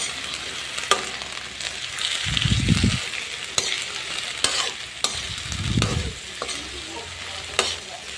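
Vegetables for pakbet being stirred in a hot pan, with a steady sizzle throughout and two distinct scraping stirs of the spatula, close and clear with no talking.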